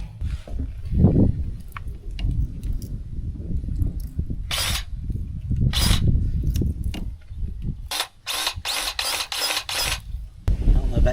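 Grease gun pumping grease into the fittings of a brush cutter with its shield removed: repeated short hissing squirts and clicking strokes mixed with metallic handling knocks, close by, with someone speaking at times.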